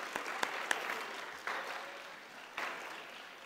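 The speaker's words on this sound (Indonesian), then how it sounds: "Berikan tepukan pada penaja kita." Audience applause at the opening ceremony of a digital and imaging art festival in a hall, a soft, steady patter of clapping with a few sharper claps standing out.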